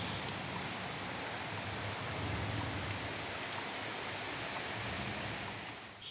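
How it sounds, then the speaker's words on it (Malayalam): Heavy rain pours down steadily, a dense, even roar of water with no break, close and loud throughout. "അപ്പോൾ മഴ തകൃതിയായിട്ട് പെയ്തുകൊണ്ടിരിക്കുവാണ്"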